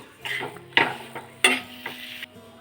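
A spoon stirs jackfruit chop filling with garam masala in a pan, making a few distinct scraping strokes and light clatters over a faint sizzle, with no talking.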